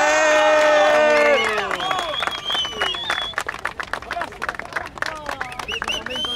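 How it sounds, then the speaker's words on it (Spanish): A crowd at a meet-up breaks into applause and cheering, with a dense wash of clapping and shouts that rises over loud music with sustained tones, then continues in uneven bursts. "¡Aplausos!"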